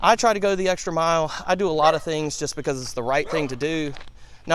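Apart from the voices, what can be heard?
None of the usual background noises is heard.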